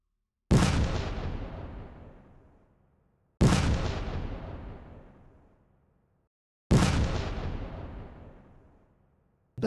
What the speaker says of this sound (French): Merci d'avoir écouté les 3 coups de canon.